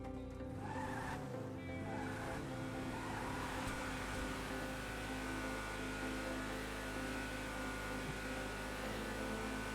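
A car driving in the video game GTA V, a steady low engine drone with faint tire noise, continuous and fairly quiet throughout.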